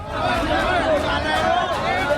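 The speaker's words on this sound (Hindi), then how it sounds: "लोग भाग रहे हैं, एक दूसरे को धक्का दे रहे हैं" People run and shove one another in a stampede at a political rally, heard as a close, loud wash of crowd voices and commotion that holds steady without pause.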